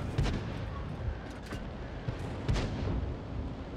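A tank cannon in World of Tanks fires shells, giving several heavy booms spaced a second or so apart over a rumbling battlefield background.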